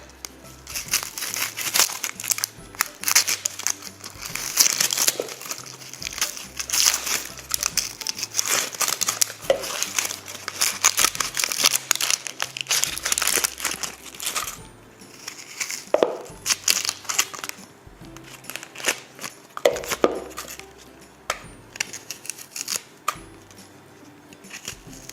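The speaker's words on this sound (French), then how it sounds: "Et on va maintenant éplucher notre oignon." An onion being peeled by hand in a kitchen, with dry papery skin crinkling, crackling and tearing in close, continuous bursts and short pauses, no voices.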